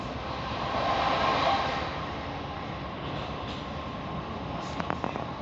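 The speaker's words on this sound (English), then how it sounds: "it's a lovely evening train journey from West Byfleet to Woking train station" A train rumbles steadily along the rails from inside a carriage between West Byfleet and Woking in the UK, a constant broadband roar with faint squeaks and clicks near the end.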